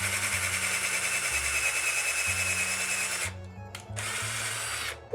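A power drill bores a hole through 3/4 inch wood, a steady high whine with a low motor hum that runs continuously, then cuts out briefly and starts again near the end, loud and close.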